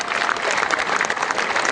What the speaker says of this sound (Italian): Facciamo un bel applauso alla Croce Verde perché compie 100 anni